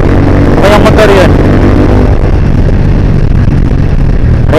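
A Suzuki Raider 150 motorcycle passes close by in the first second, its engine note sweeping past over heavy, steady wind roar and the rumble of the rider's own motorcycle on the road.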